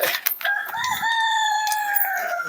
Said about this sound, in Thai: เสียงไก่ขันไก่เจ่